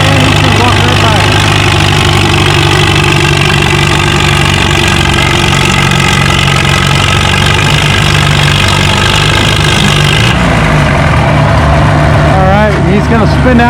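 Massey Harris 55 tractor engine pulling a 7,000-pound sled at about 3 miles an hour at a tractor pull on wet clay, a loud steady heavy rumble throughout, with a crowd and announcer voice over it.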